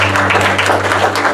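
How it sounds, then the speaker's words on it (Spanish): A church congregation at a Pentecost service claps together in a loud, close, continuous burst, with a steady low hum from the sound system underneath. "Dale el aplauso así al Señor"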